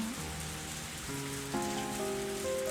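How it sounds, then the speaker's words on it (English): Heavy rain falls steadily as a dense, even hiss, with soft sustained music tones playing over it throughout. "Or is that just the rain?"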